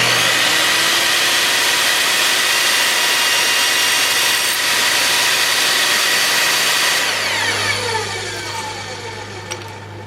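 Vevor 10-inch table saw cutting a piece of finished wood trim, a loud, close, steady whine and rasp of the blade through the cut, then the motor spinning down near the end.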